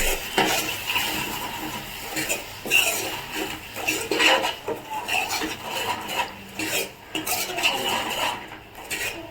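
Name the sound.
curry mixture being stirred in a pot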